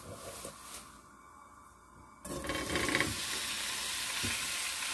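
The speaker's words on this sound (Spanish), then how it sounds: "Voy a agregar un poco de aceite. Ahí lo vamos a agregar los camarones." Shrimp dropped into hot oil in a pan burst into a loud, bright sizzle that sets in suddenly and holds steady and close, after a quieter stretch of faint frying and stirring.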